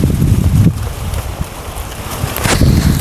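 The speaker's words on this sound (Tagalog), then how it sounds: "ang lakas ng hangin" Strong wind gusting and buffeting the microphone with a heavy low rumble, rising and falling over a few seconds with no talking.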